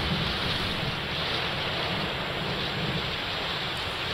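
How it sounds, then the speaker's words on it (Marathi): Floodwater from the Shivna Takli dam release rushes down a river in a loud, steady roar that goes on throughout, with wind buffeting the microphone. "शिवना टाकळी धरणातून पाणी सोडल्यामुळे नद्यांना पूर आलाय"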